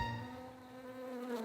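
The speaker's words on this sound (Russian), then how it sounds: "За пчелами, которые живут на крыше, следит местный Карлсон" Bees buzz steadily at beehives on a rooftop, a close, continuous drone that stays loud throughout.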